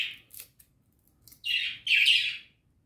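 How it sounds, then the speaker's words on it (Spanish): Pet parakeets chirp and squawk indoors in short bright bursts, a quick call followed by two louder, longer chattering squawks, fairly close, with no talking. "disculpen el ruido, son los periquitos,"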